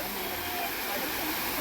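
A waterfall near Guna Cave in Devil's Kitchen, a dense continuous rushing roar of falling water filling the whole moment with no break.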